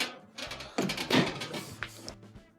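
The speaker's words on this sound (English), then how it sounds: "Make sure the door opens and shuts." A clothes dryer door with a newly replaced catch swung open and pushed shut, a couple of close thumps and a latch click amid quiet handling.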